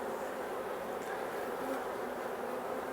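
Honey bees on a three-frame nuc frame give off a close, continuous buzzing hum, steady and moderately loud with no break and no talking over it.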